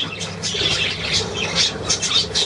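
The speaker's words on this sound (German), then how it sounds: "Na, Jasmin, Vogel, komm her." A pet bird gives a run of loud, harsh squawks, repeated in quick bursts at close range with no talking over them.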